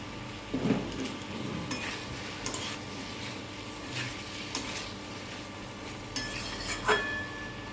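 Green chillies go into potatoes frying in a pan, a faint sizzle running beneath repeated scrapes and metallic clinks of a spoon against the pan.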